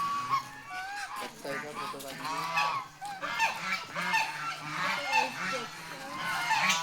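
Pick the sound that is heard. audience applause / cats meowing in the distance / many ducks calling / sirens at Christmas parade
many ducks calling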